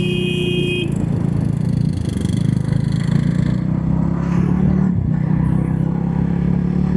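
A Jawa 42 Bobber motorcycle engine pulls hard and then brakes, a steady low rumble with a brief horn-like tone at the start, heard up close with no talk.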